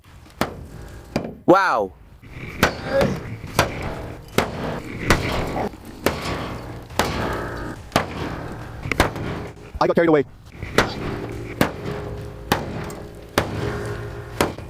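An axe and a hammer repeatedly strike a car body, a rapid series of loud metallic bangs and crunches at irregular intervals, with a person's voice briefly heard between blows.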